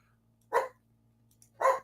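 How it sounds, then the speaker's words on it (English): A dog indoors lets out two short, sharp barks about a second apart, close and fairly loud against a quiet room with a faint electrical hum. "All right, Abby, are you going to bark?"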